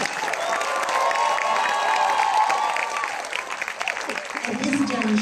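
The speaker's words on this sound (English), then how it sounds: "A round of applause for Divya," Audience applause for a dancer at a Bharatanatyam arangetram: a sustained, fairly full round of clapping and crowd noise that thins and breaks up toward the end.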